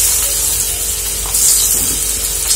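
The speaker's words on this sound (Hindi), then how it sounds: "अब इसको डाल के इसमें हम फ्राई कर लेंगे" Coated potato pieces frying in hot oil for crispy honey chilli potatoes, giving a steady, loud hiss and sizzle that carries through the whole stretch with no talking over it.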